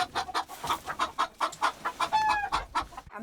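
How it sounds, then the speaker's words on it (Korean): Hens in a small winter flock at Gombaeryeong cluck in a quick, repeated rhythm of short, close, fairly loud calls, with one brief higher squawk partway through and no speech. "암탉이 7마리인데"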